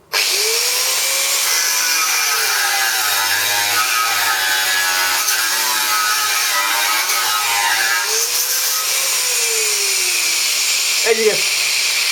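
A cordless angle grinder cuts a small piece of rebar while being pushed hard to stall it, giving a loud continuous harsh screech with pitch sagging under load and recovering, then a brief spin-down near the end.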